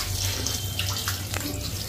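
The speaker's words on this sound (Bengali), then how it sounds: "আগে মাংসটা ধুয়ে নিই।" Tap water running steadily into a sink while mutton is washed, a close continuous splash with a few small clinks, and no voices.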